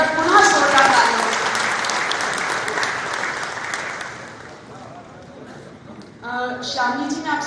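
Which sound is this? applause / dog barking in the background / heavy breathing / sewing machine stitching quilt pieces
applause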